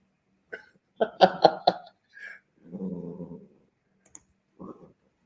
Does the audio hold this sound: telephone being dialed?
no